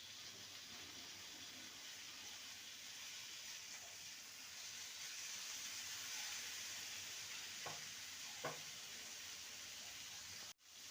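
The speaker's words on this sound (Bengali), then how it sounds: "মশলার সাথে ভালো করে কষিয়ে নেব" Papaya and potato pieces are fried and stirred with spices in a pan, producing a continuous close sizzle and hiss with occasional scraping stir sounds and a clunk near the end.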